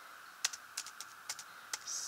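Keys clack on a computer keyboard in a handful of separate, crisp taps spaced unevenly, close up against a faint steady hum.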